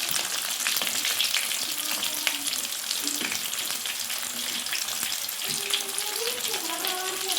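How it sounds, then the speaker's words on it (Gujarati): Steady, dense sizzling of samosas deep frying in hot oil, close up and continuous, with a voice faintly audible underneath. "આપણે સમોસા તળાવવા નાખીએ સમોસા તળાય છે"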